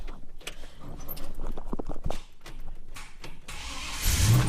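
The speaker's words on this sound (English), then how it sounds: "I've got a bit of a clicking going on there. It doesn't always start the first time" Sharp rapid clicks from the starter of a Holden HK Premier wagon, which doesn't always start first time, then the engine cranks and turns over near the end.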